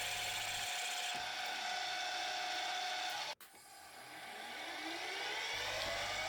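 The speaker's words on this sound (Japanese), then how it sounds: "すでにプレスで開いている穴を M6 のボルトが通るように広げます" A power tool drills out holes already punched in a metal plate so M6 bolts will pass, giving a steady whirring, grinding run that cuts out briefly partway through and then builds back up, with no talk.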